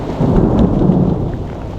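Loud, close thunder rumbles continuously through a heavy storm with rain falling, heard by backpackers sheltering outdoors.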